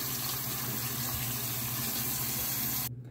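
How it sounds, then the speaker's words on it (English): A tap runs steadily into a bathroom sink for rinsing off the face, a soft, even hiss of flowing water that stops abruptly at the end. "I'm going to rinse this off."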